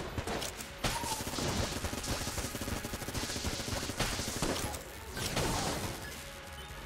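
A hammer gun in Enter the Gungeon fires long-range bullets in dense, continuous bursts of cracks and impacts. The shots sit loud and busy over game music and effects, with a few heavier hits standing out.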